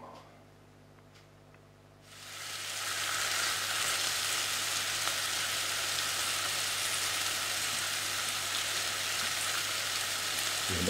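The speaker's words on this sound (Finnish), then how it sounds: "Siinä on nyt lihat käristymässä." Pork neck meat fries in a pan for a stew, starting after a quiet moment as a loud, steady sizzle that continues evenly to the end.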